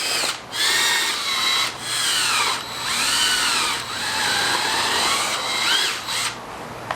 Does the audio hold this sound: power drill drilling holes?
yes